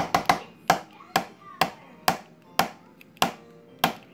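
A tablespoon is tapped repeatedly against a jar's rim to knock coconut oil into peanut butter, about ten crisp, hollow clacks in an uneven rhythm, close and clear with no talking.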